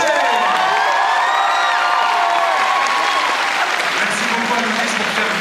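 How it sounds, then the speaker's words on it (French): A crowd at a cosplay show applauds loudly and steadily throughout, with cheers and whoops mixed into the dense clapping, and faint talk under the noise. "on peut l'applaudir, s'il vous plaît"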